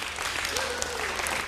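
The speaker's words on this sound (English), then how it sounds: "Give yourselves a round of applause." Volunteers at a live charity telethon applaud themselves, a dense steady patter of clapping with a faint voice or cheer mixed in.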